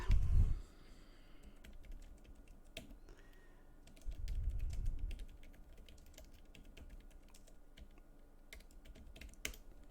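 Computer keyboard typing during a live stream: scattered, irregular key clicks, faint and close, with a couple of duller thumps near the start and middle and no talk.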